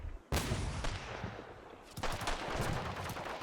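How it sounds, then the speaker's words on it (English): BRDM armored car firing in a wargame: a sudden loud burst of gunfire followed by dense rattling fire and rumbling battle noise, with a second heavy volley joining midway. "BRDM fire"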